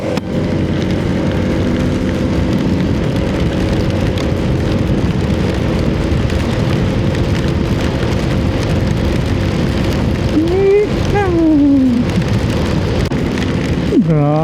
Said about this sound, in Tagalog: Grabe yung ulan, oh.